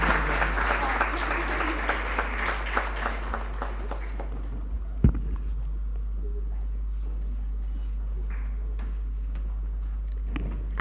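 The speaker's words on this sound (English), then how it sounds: "Please give them a huge round of applause," Audience applause at an international teen conference panel, a steady round of clapping that tapers off after a few seconds into quieter scattered claps, with a thump midway.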